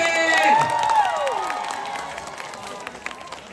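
A television studio audience at a live variety show shouts and cheers loudly at first, with whoops rising above the crowd noise, then the roar fades and scattered clapping continues faintly.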